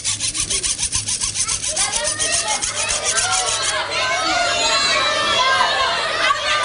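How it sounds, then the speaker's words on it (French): A hacksaw cutting metal as a live foley demonstration at a public talk on sound effects: steady, fast rasping back-and-forth strokes, close and loud, with faint crowd murmur behind. "le bruit d'une scie à métaux"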